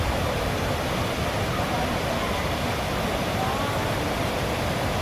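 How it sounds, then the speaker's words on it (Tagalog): Steady broadband rush of water babbling in a Hong Kong park, continuous and fairly close, with no clear talk over it. "Nakaka-relax yung lagas-las ng tubig, oh."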